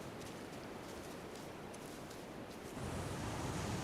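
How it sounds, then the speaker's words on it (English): Atlantic waves breaking on a windswept coastline, a broad steady roar of surf and wind that swells louder toward the end, with no voices. "Battered by Atlantic waves and constant winds"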